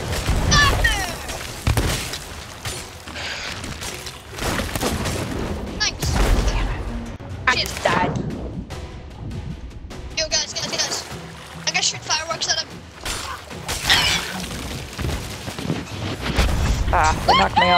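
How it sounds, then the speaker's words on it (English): Fireworks and cannon fire in the pirate video game Sea of Thieves burst in repeated loud, booming explosions and crackling volleys throughout, with people talking over the blasts. "I don't know if the fireworks do damage to him, but it was cool!"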